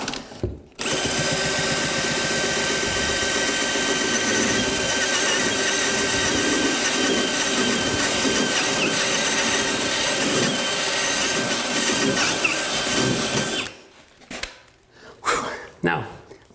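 A power drill fitted with a hole saw grinds through a wood subfloor in one long, loud, continuous whine and chatter that stops suddenly, followed by short bursts of handling noise and a voice speaking.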